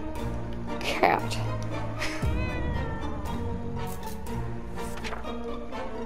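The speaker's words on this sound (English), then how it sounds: "Cat." A cat meows over steady background noise, with one louder call near the start and a sliding cry partway through, while people talk nearby.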